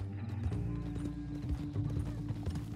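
Horse hooves clip-clopping in a Western video game while a captive rides tied to a horse, a steady rhythm of close hoofbeats over a low droning score.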